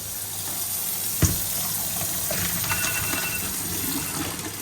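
Pasta cooking water pours from a hot pan into an Italian kitchen sink, a steady gushing rush lasting the whole moment with a brief knock partway through, no voices.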